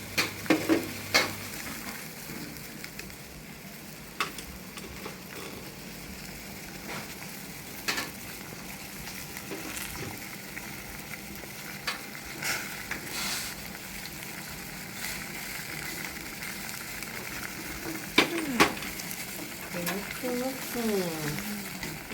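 Tom yum ingredients (tomato, mushroom, chili and coconut milk) cook in a pot during a Thai cooking class, giving a steady low sizzle and simmer with occasional clinks, while voices talk over it.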